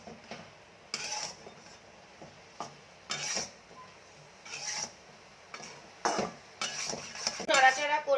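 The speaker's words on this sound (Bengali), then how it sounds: "এটাকে এবার ভালো করে মিশিয়ে নেব।" Food mixed in a pan with turmeric powder added, with intermittent clinks and scrapes of a spoon against metal coming in short bursts, close by, with a busier rattle near the end.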